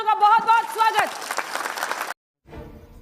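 A television debate studio audience claps to welcome the guests. Loud, dense applause follows an announcer's voice, then cuts off abruptly and returns more faintly.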